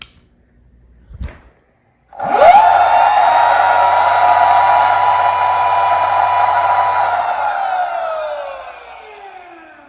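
Electric motorcycle motor spun up at full throttle during wiring tests, a loud steady whine with rising harmonics that holds for several seconds, then winds down in pitch toward the end; a brief click precedes it.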